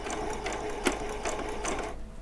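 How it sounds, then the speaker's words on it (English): A sewing machine runs a few back stitches while making a Halloween dress, a close, rapid mechanical chatter with brief pauses and a reversal click, ending as it stops. "And then we're going to do a few back stitches."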